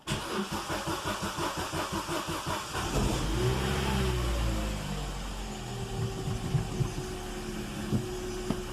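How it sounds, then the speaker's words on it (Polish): A cold Opel 1.4 Twinport Z14XEP petrol engine cranking with a rapid rhythmic starter chug for a few seconds, then catching and settling into a steady, slightly raised idle, loud and close. "No i silniczek nam odpalił."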